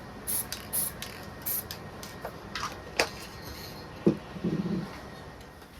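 Spray paint going onto homemade front fog light brackets for an MG in a few short, soft hissing bursts early on, followed by faint clicks and light handling noises in a quiet room.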